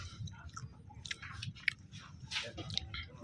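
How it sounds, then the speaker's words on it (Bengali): Fried hilsa fish mashed with rice being chewed up close, soft wet mouth sounds and occasional small crunches against a low background murmur at a riverside ghat. "ইলিশ ভাজা খাচ্ছি ভাতে চটকান এইভাবে"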